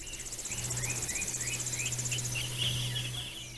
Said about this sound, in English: You can hear all the beautiful birds